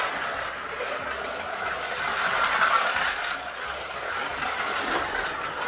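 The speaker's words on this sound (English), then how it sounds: "You can certainly hear that the tyres are not round and are a bit hard because it's chattering on the track and the wheels are trying to spin up" A Scalextric Ford Anglia 105e Broadspeed slot car with hard, out-of-round tyres chatters and whirs along the track, a steady close buzzing that swells slightly midway, with no talking.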